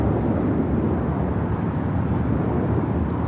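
An American Airlines A321neo airliner arriving at LAX from Philadelphia, a steady, loud broadband jet roar that holds evenly throughout with no voices.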